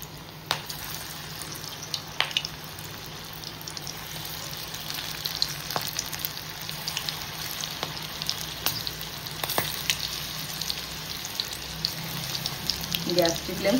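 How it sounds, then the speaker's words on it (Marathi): Corn bhaji batter dropped into hot oil, a continuous crackling fry with scattered pops and spits, steady and moderately close for the whole stretch. "आता आपण जे तेल गरम करत ठेवले तेलामध्ये टाकूया"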